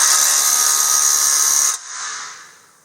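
A small impact wrench tightens a hitch bolt on a Toyota FJ Cruiser with a loud, buzzing whir for almost two seconds. It cuts off abruptly, leaving a fading hum and a sharp click at the end.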